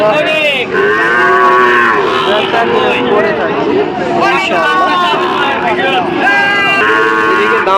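Several loud Sahiwal cattle moos, long and overlapping, ring out close by over a busy cattle-market crowd murmur throughout.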